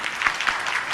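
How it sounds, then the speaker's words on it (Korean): Applause rings out in a church during Sunday service as the congregation welcomes a visitor seated near the back, a short burst of steady hand clapping from many people. "우리 배영상님 박수로 한번 환영합니다"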